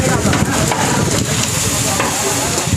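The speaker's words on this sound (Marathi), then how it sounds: "इकडं फोडणी चालू आहे कांदा टाकत आहेत" Onion added to hot tempering oil for mutton biryani in a large communal cooking setting, a loud continuous sizzle and hiss close by with stirring, steady throughout.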